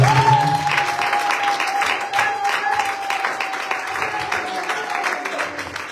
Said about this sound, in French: Acclamons très très fort pour le